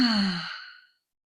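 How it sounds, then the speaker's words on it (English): Long, breathy exhale released slowly during a yoga session, a single soft, close sigh that fades into silence. "Exhale, let it out."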